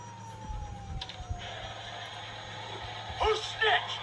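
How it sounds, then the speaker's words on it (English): Police sirens wail in GTA V, a thin sweeping tone off in the distance with brief louder bursts near the end, mixed with game sounds. "you hear that? Sirens."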